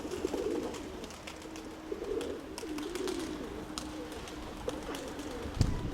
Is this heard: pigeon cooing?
yes